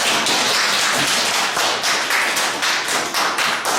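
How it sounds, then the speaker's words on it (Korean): Audience of professors at a lecture on discussion-based teaching gives loud, sustained applause, a dense steady wash of many hands clapping close by with no talk over it. "이럴 때 좀 박수를 크게 줍니다."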